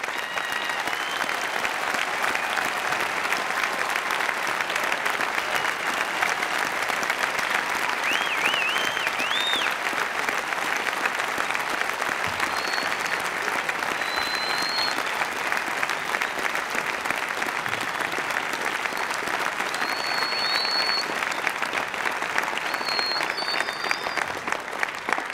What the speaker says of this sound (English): I wonder if we could all join in a tumultuous round of applause for our new graduates.